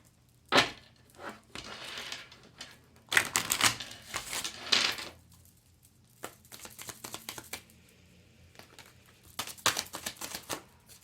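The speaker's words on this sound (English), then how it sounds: "I'm going to pull a few cards for your reading in this structure that I have set up" Tarot cards are shuffled and pulled for a reading, giving quiet bursts of riffling, slapping and crinkling paper in separate clusters with short silences between, close and soft, with no talk.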